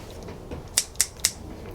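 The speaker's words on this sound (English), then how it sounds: "surgical scissors" Three crisp, close snips of surgical scissors in quick even succession over faint outdoor background noise.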